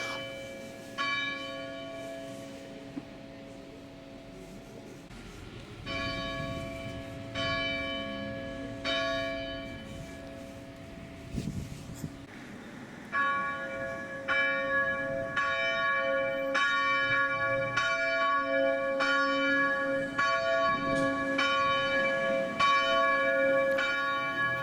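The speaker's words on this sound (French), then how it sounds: "en écoutant l'Angélus que sonnent les cloches de notre Église" Parish church bells ring the Angelus, a series of loud, resonant strikes that repeat in rhythmic groups and build into overlapping, sustained ringing with long metallic decay.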